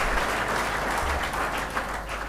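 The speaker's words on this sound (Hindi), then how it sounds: "आप लोगों ने गेस्ट का बहुत ही अच्छा तालियों से स्वागत किया" Audience at a motivational youth seminar in Begusarai applauding to welcome a guest, a dense, steady wash of many hands clapping with no break across the stretch.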